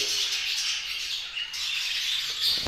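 Young budgerigar chicks, green show-type youngsters, calling in a steady dense chatter of high chirps and squawks, close and continuous with no talk.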